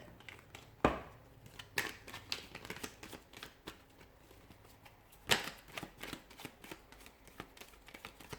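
Tarot cards being shuffled during a love reading, a quiet run of soft riffling and flicking with a few sharper snaps and slaps standing out, no voices.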